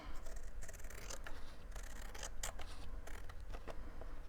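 Scissors trimming paper up close, a steady run of quick crisp snips and rustling paper edges for several seconds, with no talking.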